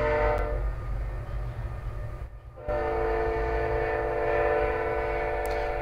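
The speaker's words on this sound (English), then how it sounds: "Ooh yay, the annual train." A train in the Fallout 4 video game rumbles past in a steady low roar with a sustained horn-like tone, broken briefly by a short dip before the rolling noise returns.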